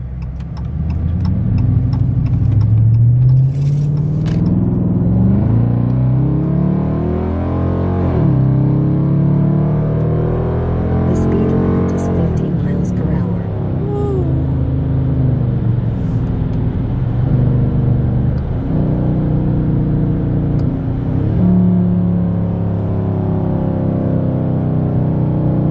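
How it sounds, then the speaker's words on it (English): A Dodge Charger Daytona driving in sport mode, heard from inside, with a steady mid-pitched engine drone that rises and falls as it accelerates and shifts, continuous throughout with no talking. "when I put this thing in sport mode, this thing about to drive like a Hellcat."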